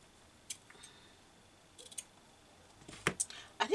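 Scissors snip through elastic for a gathered sleeve on a gown, giving a few faint, sharp cuts spread over a quiet room.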